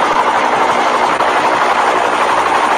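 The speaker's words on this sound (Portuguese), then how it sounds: "O helicóptero tá passando aqui em cima toda hora" Steady, loud helicopter rotor drone in Forza Horizon 5, a continuous whirring roar that stays constant throughout, as if passing close overhead.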